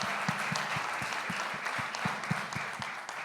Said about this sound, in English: we all should join our hands and clap for this man